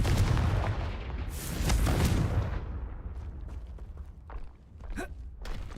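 The Confringo fire spell explodes in Hogwarts Legacy, a heavy rumbling boom at the start that fades out over a few seconds. Small clicks and thuds follow.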